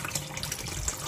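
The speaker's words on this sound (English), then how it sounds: "so use your hands to wash your rice" Rice being washed by hand in water for jollof rice, with a steady close splashing and sloshing of water throughout, no talking.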